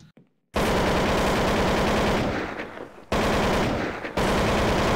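Sustained automatic gunfire in the shooter game Counter-Strike: Classic Offensive, loud and close, with rapid continuous bursts broken by two short pauses and no talking.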